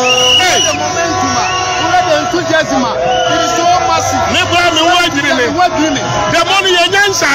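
Street crowd at the Arise Ghana demonstration in Accra, a loud dense hubbub of many voices shouting and chattering close by, continuous throughout with traffic noise mixed in.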